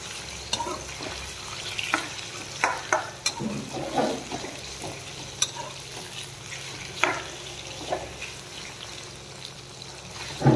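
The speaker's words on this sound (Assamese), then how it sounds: "मांसखिनि अलप टाइम एतिया मैं भाजिम।" Chicken meat frying in a pan for palak chicken curry, a steady soft sizzle with scattered stirring clicks and scrapes, close and moderately quiet.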